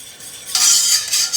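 A utensil stirs a homemade mead mixture in a container, starting quietly and then breaking into a brighter scraping, clinking swirl for under a second, close and alone.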